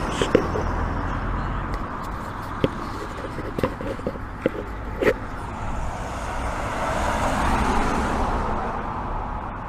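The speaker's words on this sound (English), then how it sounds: "Sorry about the road noise." Steady road traffic rumble with vehicles passing nearby, a continuous broad roar punctuated by a few sharp knocks.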